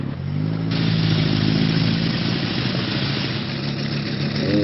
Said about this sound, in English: I just wanna ride my motorcycle